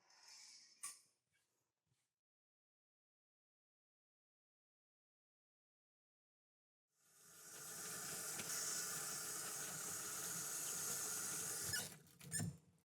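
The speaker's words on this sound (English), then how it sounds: "After washing my hands" Tap water runs hard into a sink as hands are washed, a loud, steady gush lasting several seconds after a stretch of silence, preceded by a few faint squeaks and clicks.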